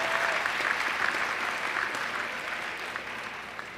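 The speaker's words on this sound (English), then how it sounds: "Graduates, please join me in honoring your parents with a rounding round of applause." A high school graduation audience gives sustained applause, a broad even wash of many people clapping that slowly tapers off toward the end.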